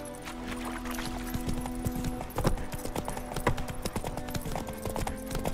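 Roach, a horse in The Witcher 3, trots steadily with continuous rhythmic clip-clopping hooves, close and fairly loud over a low ambient game background, no voices.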